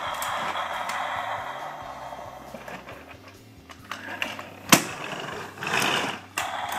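A battery-powered ThunderCats Thunder Tank toy gives off a buzzing, whirring electronic drone with stepping tones, steady at first and then broken by a sharp click and a louder rushing burst near the end.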